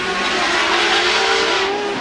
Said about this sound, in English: Field's cars fire up, but Beechum on the start line.